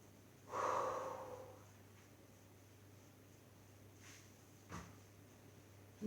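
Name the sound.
breathing out during a Pilates exercise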